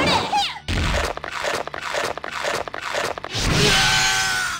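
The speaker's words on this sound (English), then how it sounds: "the sound of Weiss biting and chewing on her victim" Weiss from The King of Fighters bites and chews on a victim in a game sound effect, with a series of loud, wet crunching bites at a steady rhythm, framed by rushing noise before and after.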